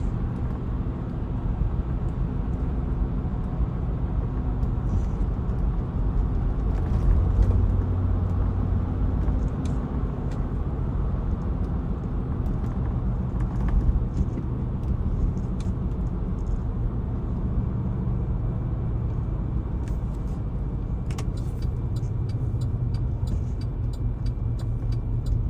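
Steady road traffic heard from inside a pickup truck on a Pennsylvania highway, a continuous low rumble of engines and tires that stays even throughout with no talking.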